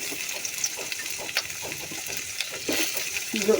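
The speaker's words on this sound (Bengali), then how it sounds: "দিয়ে দিলাম সরিষার তেল দিয়ে দিলাম পেঁয়াজ" Onions frying in mustard oil for a small-fish curry, a soft crackling sizzle broken by intermittent stirring scrapes, moderately near with no talking.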